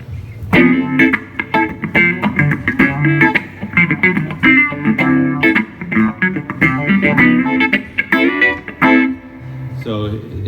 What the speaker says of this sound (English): the other setting I'll use for other songs is the Phase 90 setting